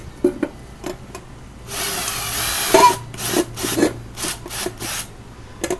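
A small drill bit bores a pilot hole in a smelter build, giving a steady rasping whir for about a second, then a run of short, uneven grinding bursts close by.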